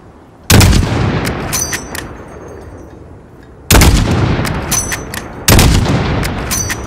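Three loud, sharp sniper rifle gunshots in Call of Duty: Modern Warfare, each booming and ringing out with a long echoing tail, spaced a few seconds apart, with no talking.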